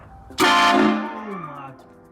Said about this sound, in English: Now we're gonna honk outside